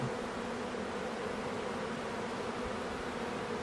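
Honey bees in an open, starving hive hum in a steady, dense drone up close, a continuous buzzing mass with faint rustles and no voices.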